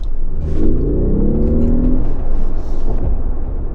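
A Mercedes G Wagon in sports mode pulls hard from inside the cabin, a loud, deep rising engine drone with climbing tones that levels into a steady rumble.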